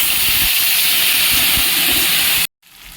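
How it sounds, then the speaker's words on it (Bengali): Ground ginger and chili paste hit hot oil already tempered with five-spice seeds for an eggplant curry, giving a loud, steady, close sizzle for about two and a half seconds before it cuts off abruptly. "দিয়ে দেবো বেটে রাখা আদা ও লঙ্কা বাটাটা"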